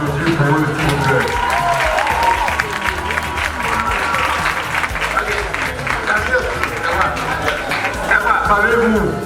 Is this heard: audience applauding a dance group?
yes